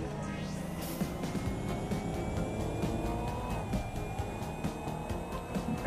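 Electric cars in the Watch Dogs Legion video game drive past on a city street, giving smooth rising and falling whines with a passing swell and tire noise over steady background traffic.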